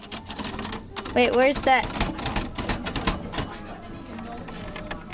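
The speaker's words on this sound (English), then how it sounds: "Look at this awesome typewriter. Even makes the ding sound." A manual typewriter's keys clack in quick, irregular bursts of sharp taps, close to the microphone, while people talk over and between the typing.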